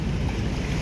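Sea waves roll in at a roadside shore, a continuous broadband wash of surf with wind rumble buffeting the microphone, no voices present.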